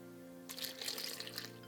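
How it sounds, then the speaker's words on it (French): Water and yeast mixture is poured into a mixing bowl while bread dough is being made, a short, faint splashing trickle lasting about a second over a low background hum. "Ensuite, j'ajoute le mélange eau plus levure"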